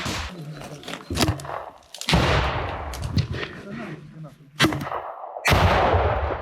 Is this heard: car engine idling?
no